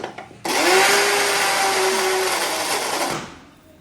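A kitchen mixer grinder blends jaggery dough with a little milk for anarsa sweets, switching on abruptly into a loud, steady whirring roar for about three seconds before cutting off and winding down.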